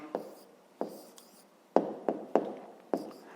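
A pen taps and scratches on paper while an answer to a fifth-grade maths exercise is written out by hand, a series of soft, close, irregular strokes with quiet gaps between them.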